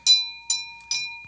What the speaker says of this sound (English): And can I ring the bell tonight is what he said.